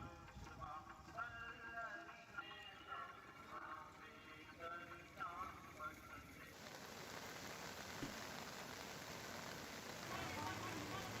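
Continuous heavy rain over flooded, low-lying parts of Mandsaur town, a steady hiss of falling water that thickens and grows louder in the second half, under faint background voices.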